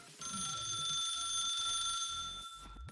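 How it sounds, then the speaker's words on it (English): An old-fashioned telephone rings in The Suicide of Rachel Foster video game, a steady metallic bell tone sustained for over two seconds before stopping, fairly faint and close within a quiet interior with some shuffling. "Where is that phone? It sounds like it's over here."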